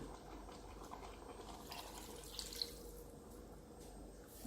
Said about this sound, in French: Ensuite, je vais rajouter l'eau.